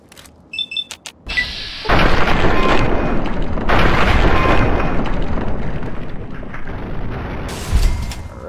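Grenade explosions go off in the video game Fallout 3. After a few clicks, a loud, booming blast rolls into a long, heavy rumble that lasts several seconds and flares again near the end, with no talk over it.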